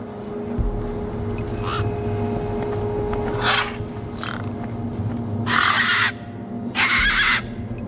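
Tough desert birds in Beyond A Steel Sky give harsh, loud caws in separate bursts, the last two long and strong, over a low ambient hum.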